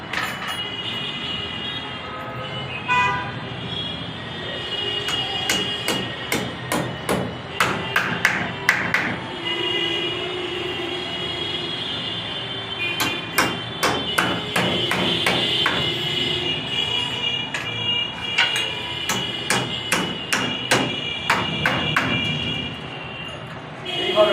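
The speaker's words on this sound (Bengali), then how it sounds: "কতগুলো পেরেক নিলাম, পেরেকগুলো অবশ্যই সাইড দিয়ে মারতে হবে।" Nails are hammered to fix PVC conduit pipe for concealed wiring, heard as bursts of sharp, fairly close metallic strikes in quick runs with short pauses, over a steady background hum.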